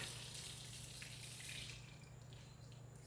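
Water runs from a tap in a quiet setting, a faint steady gush with a low hum beneath that softens partway through.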